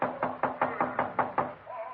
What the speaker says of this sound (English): When I knocked, I did it with the barrel of my .38.